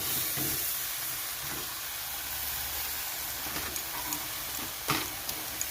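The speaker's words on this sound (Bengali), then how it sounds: "এবার এখানে বারবার নাড়তে হবে" Sweet homemade mango pickle with sugar and jaggery is stirred in a hot pan, giving a steady close sizzle and hiss with soft scraping strokes and occasional clicks, with no voices.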